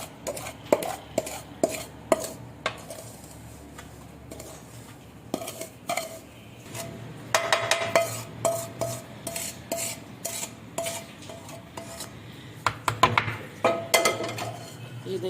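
Roasted semolina scraped from a pan into a bowl for suji halwa, with repeated sharp scrapes and clinks of a spoon on metal in an uneven rhythm, close and clear, with no talking.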